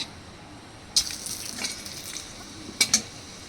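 Bay leaf, cinnamon sticks and two cardamom pods hit hot oil over cumin tempering, raising a steady close sizzle with two sharp crackling bursts as spices drop in, no voices.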